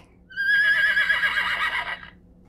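A single horse whinnies from a farm animal sound book, one bright, quavering neigh lasting under two seconds against a quiet background.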